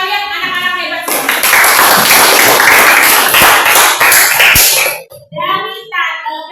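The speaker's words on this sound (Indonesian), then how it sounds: "tepuk tangan buat kalian anak-anak hebat semua." Classroom students clap after their group presentations, a burst of loud, dense applause lasting about four seconds, with a voice speaking before and after.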